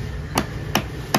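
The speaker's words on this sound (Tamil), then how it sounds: "தலையெல்லாம் கட் பண்ணுவாரு." A big trevally fish having its head chopped off at a fish market, three sharp, evenly spaced blade strikes landing about every 0.4 seconds over a steady background hum.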